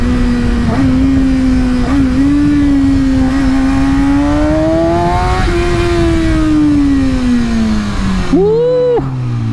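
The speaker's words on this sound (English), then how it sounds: "Listen to these rev match downshifts." A 600-class sportbike engine revs repeatedly through rev-matched downshifts, its pitch rising and falling in blips with a sharp final rev, loud and close over steady wind rush.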